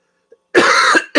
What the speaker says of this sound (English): I just tried to talk through a cough.